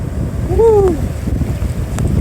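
Winter surf rolling onto an Atlantic Ocean beach at Atlantic City, New Jersey, at night: a steady low roar of waves mixed with heavy wind buffeting the microphone, with a brief whistling tone near the start.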